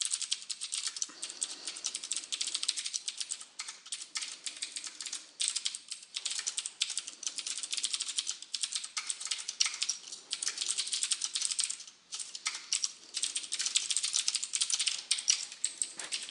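Rapid, continuous typing on a computer keyboard during C# coding, dense crisp key clicks close up, with brief pauses between bursts and no talking.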